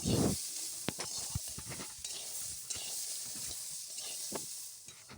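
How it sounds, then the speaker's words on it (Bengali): Beans, carrots and peas frying in a pan with turmeric and salt, a steady soft sizzle broken by sharp scrapes and clinks of a stirring spoon, with no voices. "এখানে বিনস আছে, গাজর আর মটরশুঁটি। এর মধ্যেও সামান্য একটু হলুদ আর সামান্য একটু লবণ দিয়ে ভালো করে ভেজে নেব।"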